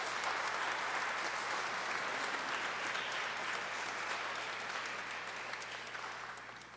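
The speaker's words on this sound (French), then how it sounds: "Nous vous invitons à les applaudir et qu'ils se mettent debout." A church congregation applauds during Sunday Mass, dense steady clapping from many hands filling the space for several seconds before slowly tapering off.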